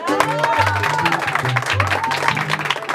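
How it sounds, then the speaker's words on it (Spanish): Guests applaud at a quinceañera birthday party with a youth mariachi band, steady clapping mixed with crowd noise as low bass notes and voices carry on underneath. "Se merece un aplauso."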